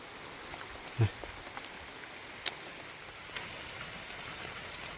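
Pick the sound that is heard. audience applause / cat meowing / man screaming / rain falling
rain falling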